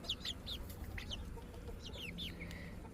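Young frizzle and partridge silkie chickens in a brooder give soft, high chirping clucks in quick scattered bursts, close but quiet over a steady low hum.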